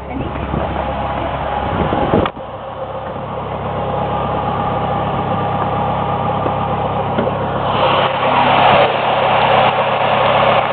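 A 1996 Chevy Cavalier Z24 with 178,000 miles idles steadily at a low hum, close and continuous, with a sharp knock partway through.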